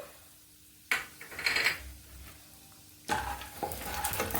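Peanuts frying in a spoonful of ghee in a pan as a festive Holi snack is prepared, with stirring scrapes and soft sizzling that swell in two bursts, close by and with no voices.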